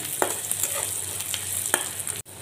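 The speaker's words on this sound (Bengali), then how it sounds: "পেঁয়াজটা একটু হালকা ভাজা দিয়ে নেব।" Finely chopped onion fries lightly in a pan with a soft, steady sizzle, broken by a few brief stirring clicks and scrapes.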